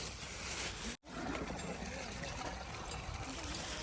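Water runs from an opened tap at a farm in Korea after rain, a steady hissing trickle broken by one brief silent gap, then continuing evenly at moderate level.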